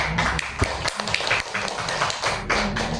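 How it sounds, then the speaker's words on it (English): Applause from a graduation audience honoring academic and special awardees and their parents at a grade 6 virtual graduation rite, a steady patter of claps and taps throughout with irregular louder hits. "Let us give our academic and special awardees with their parents with a big round of applause."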